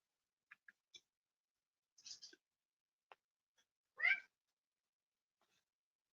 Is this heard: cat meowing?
yes